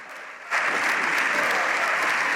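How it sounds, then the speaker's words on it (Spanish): Loud, dense applause erupts in the Spanish parliament chamber about half a second in and holds steady to the end, a crowded roar of clapping from the benches with desk banging and shouting blended into the din. "A los aplausos de la bancada socialista responde la popular con gritos de dimisión y golpeando los escaños."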